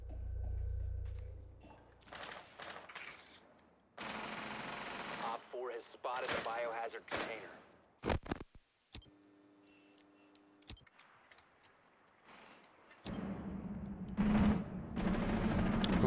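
Gunfire in the video game Rainbow Six Siege comes in sharp, scattered bursts and rapid volleys among other game effects, fairly quiet overall with abrupt starts and stops and some faint talk between.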